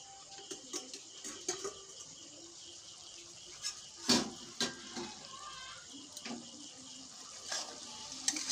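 A spicy bitter gourd curry made with mustard is stirred in a pan. A spoon scrapes and clacks in scattered knocks, with one sharp clatter midway, over a soft steady sizzle.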